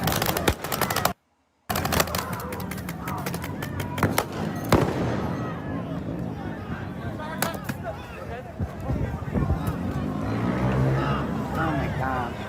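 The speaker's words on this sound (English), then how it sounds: "all the fireworks and stuff, it sounds like gunfire" Fireworks in a Los Angeles street during riots, crackling in sharp rapid bursts like gunfire, loud and close, while people talk over the noise.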